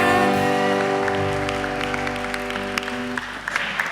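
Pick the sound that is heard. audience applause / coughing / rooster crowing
audience applause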